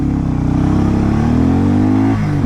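A Royal Enfield Guerrilla 450 Apex or Harley-Davidson X440T motorcycle pulling away in first gear, its loud, close engine note rising steadily in pitch with a brief dip near the end, heard alone without talk.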